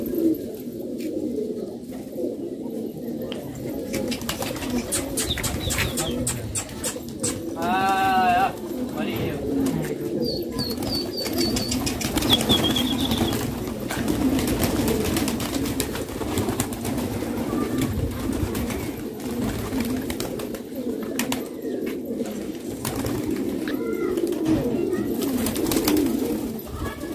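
Many pigeons held for sale coo in a continuous low chorus close by, with occasional sharper calls and bursts of movement, under intermittent speech.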